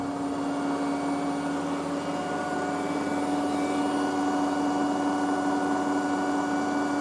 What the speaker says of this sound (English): Observe the washing machine irrelevant to this video.